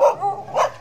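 A dog barks in a residential subdivision, two or three loud, close yelps within a second, with no one talking.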